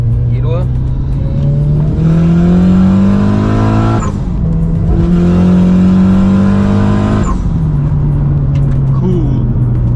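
A Mitsubishi Evo 5 engine in a garage revs hard with boost ahead of a dyno run, two long rising pulls separated by a brief drop, loud and close, with voices talking over it.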